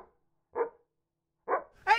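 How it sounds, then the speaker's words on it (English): A dog shut inside a car lets out three short, sharp barks with pauses between them, close and somewhat muffled. "Hey, Missy, can you go let the dog out of the car"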